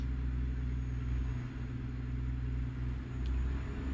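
A Freightliner Argosy truck in American Truck Simulator, hauling a very heavy load with a 620-horsepower 14-liter Detroit engine, drones with a steady, loud low rumble that holds level throughout, with no voices.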